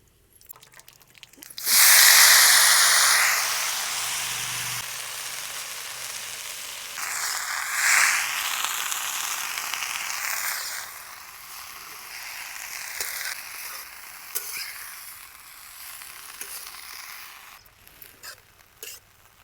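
Cumin and garlic hit hot oil in a kadhai for tempering, bursting into a loud sizzle that gradually fades to a quieter, uneven crackle before trailing off.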